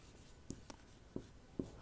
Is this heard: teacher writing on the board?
yes